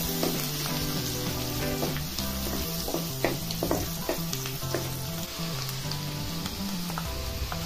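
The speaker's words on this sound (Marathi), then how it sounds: "त्यामध्ये मोहरी टाकायचे, जिरं घालायचं अर्धा चमचा, आणि आता कांदा घालून घ्यायचा" Mustard seeds, cumin and onion sizzle steadily in hot oil in a pan, stirred now and then, with gentle music playing underneath.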